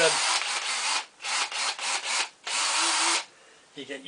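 A power drill whirs in several loud bursts, starting and stopping repeatedly, close by with short pauses between runs, drilling for screws while fitting real vinyl onto a Numark NS7 DJ controller.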